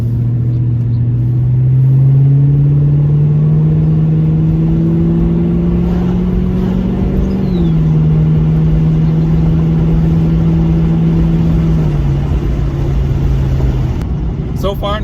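New Edge Mustang GT with a two-valve V8 and a bolt-on bigger throttle body, revving up under throttle and then easing off the gas, a close, steady engine drone that rises, holds and drops back toward idle with faint talk underneath.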